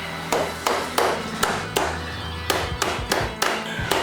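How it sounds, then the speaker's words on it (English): Firm taps of a soft hammer on a metal part of a Kawasaki motorcycle, about ten blows in an uneven rhythm, fairly loud and close. "let me get a soft hammer, and then we'll give that a tap"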